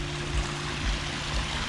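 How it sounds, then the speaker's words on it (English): Water trickles and splashes over rocks at a roughly foot-high drop in a small backyard waterfall, part of a twelve-foot natural wooded landscape feature; a steady, close, continuous babble with no voices. "Got a nice waterfall drop here, about a foot."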